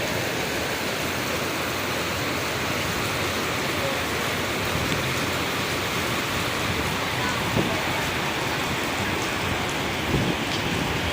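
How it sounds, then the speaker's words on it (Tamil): A heavy downpour pours over Besant Nagar beach as a dense, constant roar of rain, with a few faint low rumbles that may be thunder. "சரியான மழை நான் சொன்னேன் இல்லையா பலத்த மழை பெய்யக்கூடும்"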